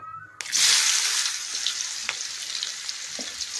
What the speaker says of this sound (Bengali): এবার এই তেলের মধ্যে আমি কেটে রাখা পেঁয়াজগুলো দিয়ে দেব।